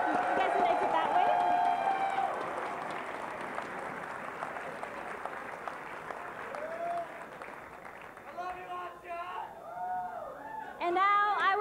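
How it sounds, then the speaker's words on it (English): Crowd applause at an esports grand final arena, a broad wash of clapping and cheering that carries on steadily while a presenter speaks over it through the PA. "Another round of applause, please."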